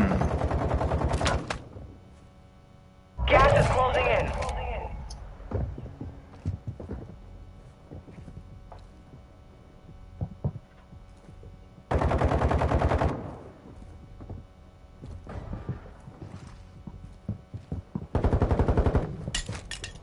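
Gunfire rings out in a first-person shooter video game. Several separate bursts of rapid automatic fire are spaced apart, with quieter game sounds in between.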